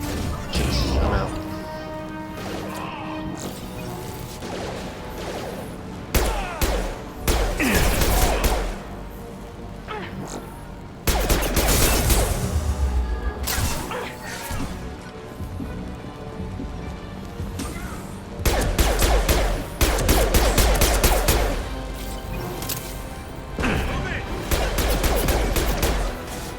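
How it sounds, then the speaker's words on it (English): Heavy gunfire in Mass Effect 2 Legendary Edition, a loud, sustained battle of rapid shots and crashing impacts in repeated bursts, with voices talking over the fighting. "Taking heavy fire."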